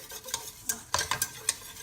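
A spoon stirs and scrapes a roux for vegan cheese slices around a pan, sounding as a series of quick, uneven scraping strokes over a faint steady background, with no talking.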